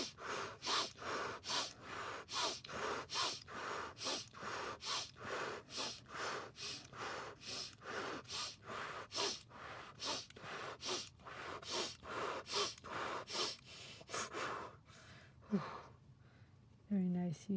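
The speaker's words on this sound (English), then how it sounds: "I'm going to add some holotropic breathing to it." Rapid, deep rhythmic breathing of a holotropic breathing exercise, loud close breaths in a steady fast pulse of roughly two per second for about fifteen seconds, then a few slower gasps and sighs at the end.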